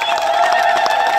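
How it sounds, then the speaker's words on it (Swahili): A crowd at a public gathering in Tanzania applauds and cheers steadily, a dense wash of clapping and voices that fills the short moment without a break. "Naomba tumpigie makofi mengi sana."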